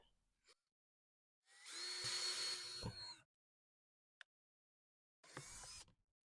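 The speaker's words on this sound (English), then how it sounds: "let's go ahead and put a couple more holes in the bottom of this" Power drill boring a few holes through the bottom of a planter, in two separate bursts of whirring: a longer run of about a second and a half, then a shorter one, with a faint click between them and silence around them.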